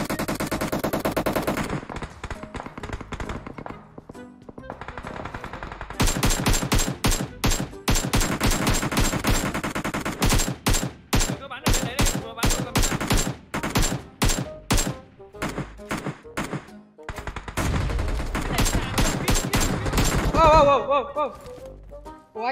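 Rapid bursts of automatic gunfire from the PUBG Mobile video game crackle in repeated volleys, some loud and close, with players talking over and between the shots.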